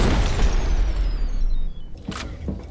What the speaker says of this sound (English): Thumbs up for underwater rocket death.